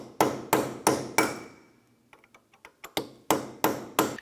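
A hammer strikes a punch to open the staked rear spindle axle nut on a 2004-2008 Acura TL hub, loud metallic blows in two bursts of four and five, with a pause of lighter taps between them.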